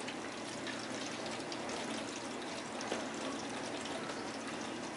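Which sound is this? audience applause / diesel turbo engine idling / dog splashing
dog splashing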